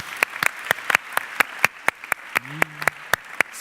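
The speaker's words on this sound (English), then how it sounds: "we're going to give a round of applause to both teams" Applause for both teams at a gameshow-style event comes as sparse, separate claps from a small audience, spaced unevenly and fairly close, with a brief voice sounding partway through.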